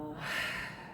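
A single long exhale pushed out through the mouth during a gentle seated chair yoga breathing exercise, a soft airy breath close to the mic lasting about a second, with no talking.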